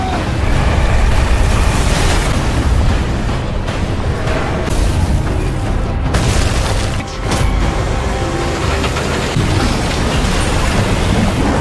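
An overheating robot engine explodes in a loud, rumbling blast with heavy booming and crackling debris, sustained for several seconds with bursts of blasting noise and metallic clatter.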